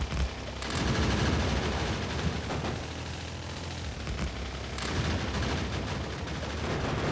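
Gun turrets in the video game Factorio firing at worms, a dense continuous rattle of rapid gunfire with faint bursts of explosions, loud and steady throughout.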